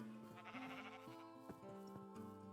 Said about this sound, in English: We have a brown sheep.